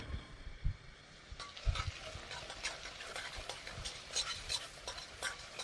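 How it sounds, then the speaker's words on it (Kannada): Semolina (rava) roasts in oil in a pan over a low flame as a spoon stirs it, giving soft scraping and light clinks with a faint sizzle underneath, quiet and close. "ಒಂದು ಸ್ವಲ್ಪ ಫ್ಲೇಮ್ನ ಕಮ್ಮಿ ಇಟ್ಟಿದ್ದಕ್ಕೆ ಈಗ ಆಯಿಲ್ ಬಂದು ನೀಟಾಗಿ ರೋಸ್ಟ್ ಆಗ್ತಾ ಇದೆ"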